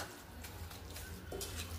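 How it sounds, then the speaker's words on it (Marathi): Vegetables for masala pav are stirred and mashed in a pan as they sauté, giving soft sizzling and faint scraping under a low background hum, with a quiet clink of the spoon near the end. "1 मिनिटभर तरी मी असंच परतणार ह्याला"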